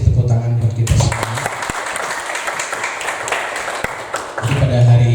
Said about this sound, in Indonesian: Terima kasih, tepuk tangan buat kita semua.